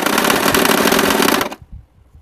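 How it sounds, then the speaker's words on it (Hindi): A sewing machine stitches a homemade cloth bag in a loud, fast, steady mechanical run that stops abruptly partway through, leaving quiet afterward. "हम सिलने जा रहे हैं"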